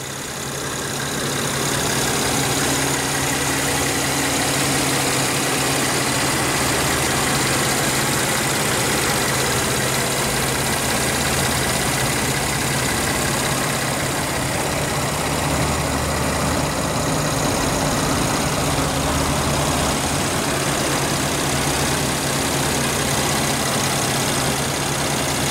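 A 2014 Mercedes-Benz E350 with a 3.5 L direct-injection V6 idles in a steady, even hum for the whole stretch, with no revving and no voices.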